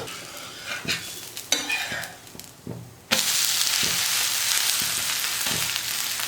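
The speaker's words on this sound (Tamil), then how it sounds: "தோசை ஒரு பக்கம் நல்லா வெந்துருச்சு இப்போ திருப்பி போட்டுக்கலாம்" A millet dosa turned over on a hot pan, with a few light scrapes and taps before a loud, steady frying sizzle takes over and holds for the rest of the clip.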